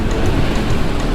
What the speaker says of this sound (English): What you hear is that intake when you accelerate.